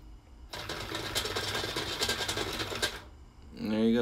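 A Rat Race action clock making its minute move, a busy mechanical whirring and clattering run of about two and a half seconds that starts and stops abruptly, followed by a voice.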